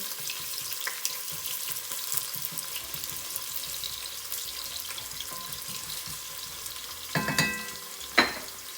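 Onion sizzles steadily in hot oil at moderate volume, with scattered pops and a couple of louder clatters and splashes near the end, no talk.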